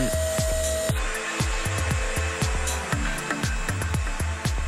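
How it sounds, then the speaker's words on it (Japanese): A hair dryer blows in steady intermittent bursts over hair while it is brushed again and again in a 2003–2004 Japanese Dove moisture shampoo commercial, with a quick, regular rhythm of brush strokes under the continuous airy hiss. "ドライヤーを断続的に当てた状態で5000回ブラッシング"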